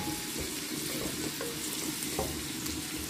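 Whole spices tempered in olive oil for a green gram curry crackle and sizzle steadily in a pan, a dense continuous frying hiss with small pops throughout, no voices over it.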